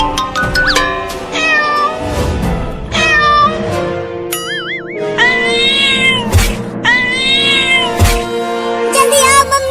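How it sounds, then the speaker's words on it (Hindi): Agitated cat meowing and yowling indoors, a series of loud, drawn-out cries with rising and bending pitch, close by, separated by short gaps and some thumps. "ये बिल्ली मुझे काटने के लिए अलमारी पर भी चढ़ने की कोशिश कर रही है।"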